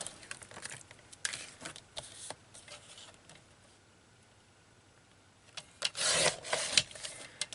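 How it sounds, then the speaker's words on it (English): Scissors cut through paper for a handmade journal in short snipping, rustling bursts: a few near the start and a louder cluster near the end, with quiet handling between. "Scissors on that. Bear with me, scissors in paper."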